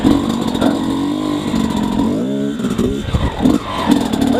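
A motorcycle fitted with a Keihin PWK Airstriker 36S carburetor and JD jetting kit accelerates hard in low gear, its engine note climbing and dropping through revs, loud and close, with no talk.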